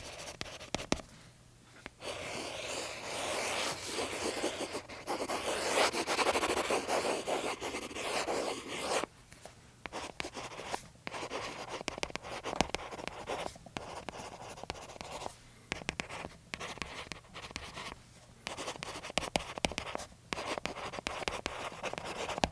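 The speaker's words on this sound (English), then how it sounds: "you start gliding that pen or nib over the surface of the screen" A pen nib glides over the textured screen of a reMarkable Paper Pro tablet, a close, dry scratching of continuous strokes broken by short pauses between words.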